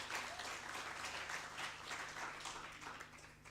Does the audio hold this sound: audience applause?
yes